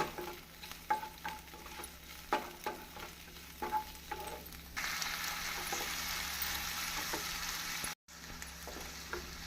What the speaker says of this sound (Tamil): நாம் ஹை ஃப்ளேமிலே வைத்து தக்காளியை வதக்கி விடலாம்